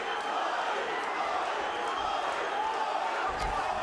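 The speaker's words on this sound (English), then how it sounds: "You can hear the Tajikistan crowd chanting, Loic, Loic." A Tajikistan crowd chants and roars in the arena during a PFL lightweight MMA bout, the rhythmic crowd noise continuous and somewhat distant beneath a commentator's talk.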